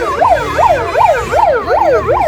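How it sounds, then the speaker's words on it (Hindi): Ambulance siren stuck in a traffic jam on a main road, loud and close, a rapid rising-and-falling wail repeating about every 0.4 seconds with traffic rumble underneath. "देखिए एम्बुलेंस भी फंसा हुआ है, आप देख सकते हैं"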